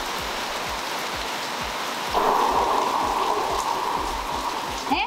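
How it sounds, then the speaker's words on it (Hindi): Heavy monsoon rain with big drops pours down in a dense, continuous hiss, close and loud, and the downpour intensifies partway through with no one speaking. "बहुत जबरदस्त की बारिश गिरी है, बड़ी बड़ी बारिश गिरी"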